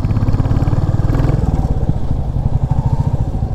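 A motorcycle engine rumbles loudly with a rapid, throbbing pulse while riding on a highway toward Eturnagaram in Telangana. The recording is close-miked and has no speech.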